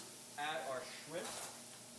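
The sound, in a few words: shrimp sizzling as added to hot pan with lime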